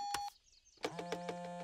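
A cartoon phone gives a short high electronic beep, a brief pause, then a run of rhythmic pulsing tones over a steady low hum, close and fairly loud.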